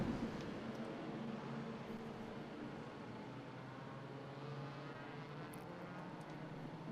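Vintage race car at full throttle down the front straightaway at Indianapolis Motor Speedway, a steady, distant engine roar held flat-out for the whole stretch with broad crowd-and-wind wash, no voices.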